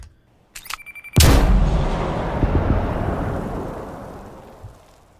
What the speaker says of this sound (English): Here is the explosion sound exactly that I tried to recreate.